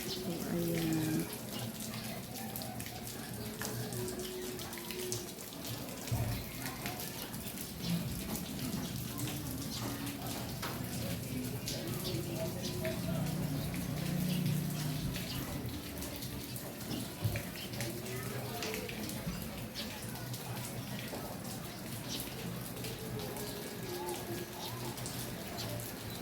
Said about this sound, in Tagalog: Ang lakas ng tulo ng ulan ay sa kabila.